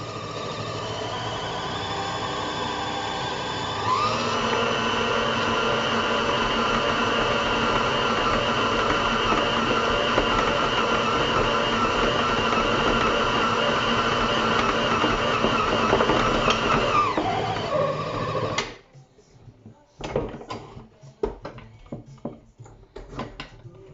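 Mixer machine kneading bread roll dough, a steady loud motor whir with a humming drone that rises in pitch after a few seconds and then cuts off, followed by clattering handling noises.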